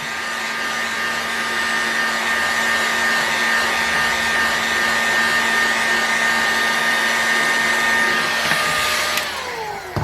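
A heat gun blows steadily on an engine case to free crankshaft bearings, a continuous airy whine with a fixed motor tone, close and loud, cutting off abruptly near the end.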